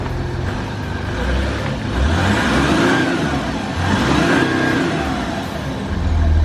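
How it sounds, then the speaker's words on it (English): An Audi A4 3.0 TDI with its muffler deleted revs with the exhaust valve closed, giving a loud, steady diesel drone that swells in two rising pushes. "Give us a rev with it closed."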